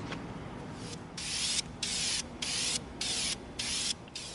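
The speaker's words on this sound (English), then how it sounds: "We're gonna spray our piece." Spray gun bursts applying a base coat of paint onto an EVA foam piece at an outdoor spray stand, five or six loud hissing blasts in steady rhythm with short pauses between them, no talking.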